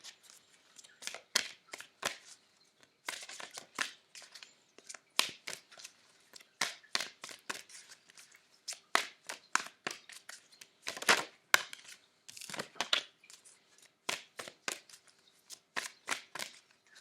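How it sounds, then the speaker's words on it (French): Tarot cards are shuffled and drawn by hand, making rapid bursts of crisp riffling and slapping card sounds that repeat in quick clusters throughout, close and clear with no talking. "Et pendant ce temps-là, moi je tire les cartes."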